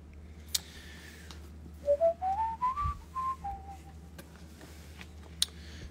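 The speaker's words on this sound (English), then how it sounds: "of course I whistled that" A person whistles a short rising-and-falling melody, a clear run of notes that climbs and then levels off, close and fairly loud over a quiet room with a couple of sharp clicks and no talking.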